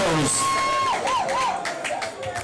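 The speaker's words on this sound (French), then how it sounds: "la sortie de Fabien Béral, on va l'applaudir bien fort." Football crowd at a French Cup fourth-round match applauding a substituted player leaving the pitch, scattered clapping and cheering from the stands under a stadium announcer's amplified voice.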